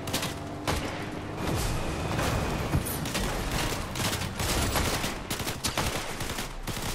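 Rapid bursts of Fortnite gunfire crackle continuously, loud and dense, with sharp repeated shots layered over a constant roar.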